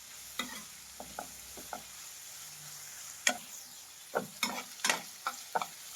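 Finely chopped vegetables frying in a spice tempering for Maggi masala noodles, a faint low sizzle broken by a few sharp spoon taps and scrapes against the pan, with no talking.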